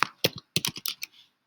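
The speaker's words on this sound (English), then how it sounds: "That's what I'm going to type, sites.google.com." Computer keyboard keys tapped in quick irregular bursts while a web address is entered in a browser, close and clear with no voices.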